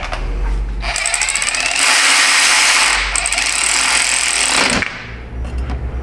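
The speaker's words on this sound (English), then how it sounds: "Got the torque wrench." A torque wrench is ratcheted during repair work on a 2017 Subaru Outback, making a loud, close, rapid clicking buzz that runs for several seconds and then stops sharply.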